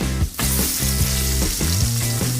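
Steady, dense crackling sizzle of chicken frying in hot oil, continuous and close, with a brief dip near the start.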